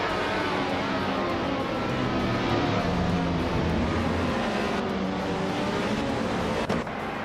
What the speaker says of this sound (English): cars are revving up on the Akutama reverse track